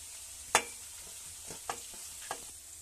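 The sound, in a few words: stir-frying cabbage and carrot for fried rice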